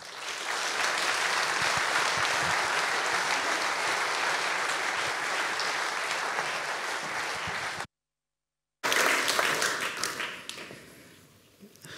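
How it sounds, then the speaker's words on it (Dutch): An audience at the Rode Hoed in Amsterdam gives sustained, dense applause for Sigrid Kaag before a lecture, steady and loud for about eight seconds, a brief gap, then a further burst that fades away. "graag u aandacht aan uw applaus voor mevrouw Sigrid Kaag"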